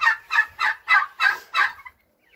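Dwarf chicken or rooster calls: six quick, evenly spaced squawking bursts nearby, then quiet.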